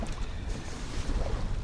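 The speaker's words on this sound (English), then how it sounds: "I'm having to go upwind and beat against the waves, a little bit like I am now" A small sailboat beating upwind against waves makes a continuous wash of water slapping the hull mixed with blustery wind noise, close and steady, with no voices.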